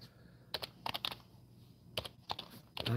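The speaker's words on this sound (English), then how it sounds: "I don't know why my keyboard's not working right." Keys clatter on a computer keyboard in short irregular bursts of typing, close and fairly crisp, with brief gaps between clusters of keystrokes.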